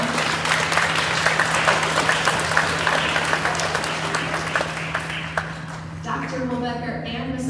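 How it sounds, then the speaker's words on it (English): Audience applause fills a school concert for third graders at a Veterans Day event, a dense, steady clatter of many hands with a low steady hum beneath, thinning toward the end as a voice begins to speak over it. "Let's just give them a round of applause."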